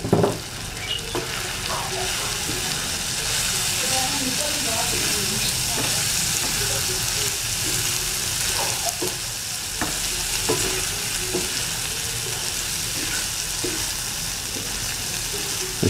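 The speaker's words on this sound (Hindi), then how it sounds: "ये जी इसमें कीमा डाल दिए।" Pre-boiled minced keema fries on a hot tawa in dhaba style, a steady close sizzle broken by repeated scraping clatters of a spatula stirring the meat, with no talking.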